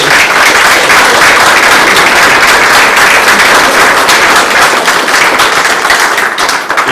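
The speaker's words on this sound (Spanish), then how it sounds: "Fuertes aplausos." Loud applause fills a ceremony hall, with many people clapping in a dense, continuous wash that stays strong for several seconds before dipping slightly at the end.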